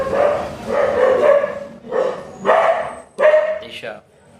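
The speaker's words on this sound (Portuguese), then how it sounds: "porque meu cachorro tá latindo muito aqui" A dog barks in short repeated bursts, about five loud, close barks with brief gaps between them, ending in a higher yelp.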